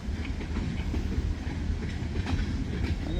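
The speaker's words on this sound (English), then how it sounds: "I wonder if they push that train all the way from Channing." A freight train runs on the rails, pushed in reverse, with a steady low rumble and faint clickety-clack of wheels rolling continuously at close range and no talking.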